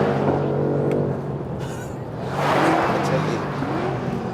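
New BMW M5 on a race track, its engine a steady loud drone that swells as the car accelerates, with someone talking over it.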